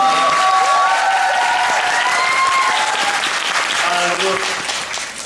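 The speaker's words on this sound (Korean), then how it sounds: "인사하시고 박수 한번 받도록 하겠습니다" Loud, sustained applause from a large theatre audience for the cast's curtain call after the musical Pungwolju, steady clapping with some voices and cheers mixed in, tapering slightly at the end.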